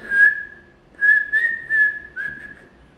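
A person whistles a short tune of several clear, steady notes in a quiet room, close and fairly loud, with brief pauses between phrases.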